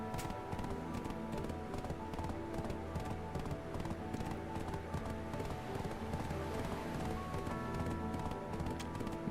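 Donkey hooves clip-clopping at a steady brisk pace in the video game Black Desert Online, a continuous rhythmic trot heard alone at moderate distance.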